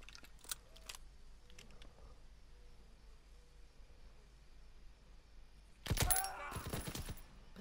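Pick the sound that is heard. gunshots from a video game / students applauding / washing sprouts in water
gunshots from a video game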